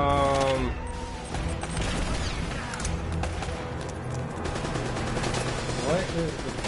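Sustained machine-gun fire in the video game Uncharted: Drake's Fortune, loud and continuous rattling bursts layered with game effects and a voice speaking over the shooting.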